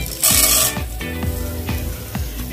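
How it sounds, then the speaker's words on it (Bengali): Dal and spice tempering crackling in hot oil, with a loud burst of sizzle as the dals go in, then steady frying with rhythmic stirring scrapes, close and without talk. "গরম হয়ে গেছে আর ফোড়নও ফুটতে শুরু করে দিয়েছে"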